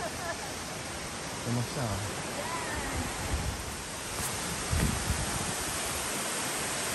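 Flat Falls near Hope, Canada, rushes with a constant broad roar of falling water, loud and close, while people talk briefly over it.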